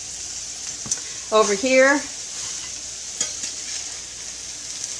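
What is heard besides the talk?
vegetables sautéing in a pan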